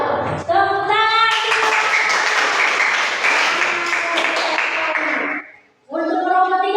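Classroom applause after a group presentation, a burst of clapping from many hands that swells loudly for several seconds and then stops, with voices heard before and after it.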